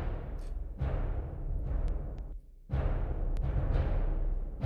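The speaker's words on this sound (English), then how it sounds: "we have the kick drum, or in this case, we have the bass drum," A solo bass drum plays a simple rhythmic pattern, each deep thump ringing out and decaying before the next hit, with a short gap partway through, and no other instruments or voices.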